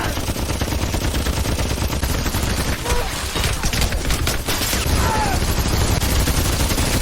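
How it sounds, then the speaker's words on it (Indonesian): M2 heavy machine gun firing through house walls, loud sustained bursts of automatic fire that fill the whole stretch without a break. "senjata M2 yang dimana senjata ini bisa menembus tembok dan menghancurkan seluruh yang ada di dalam rumah tersebut"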